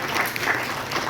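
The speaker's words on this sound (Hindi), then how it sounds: "तालियां बजाएं" An audience at an Urdu literary gathering in Lucknow claps briefly in a dense, even burst of applause.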